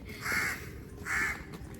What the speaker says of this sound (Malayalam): അമ്മയും കാക്കയും സംസാരിക്കുവാണ്.